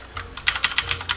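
Keys clatter on a coding-style mechanical computer keyboard, a quick run of about a dozen crisp, closely spaced strokes, fairly loud and close, with no voices.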